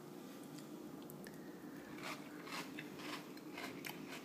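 Someone eats Medifast cereal mixed with milk, with soft, close crunching and chewing bites repeating over a faint steady background hum.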